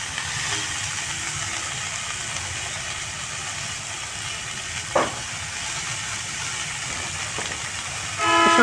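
Shredded cabbage for a fish-head cabbage ghonto hisses in a hot pan, a steady close sizzle that rises into a louder burst at the end.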